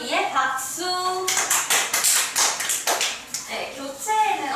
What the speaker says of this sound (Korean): 우리 용기 있게 발표해준 민정이를 위해 박수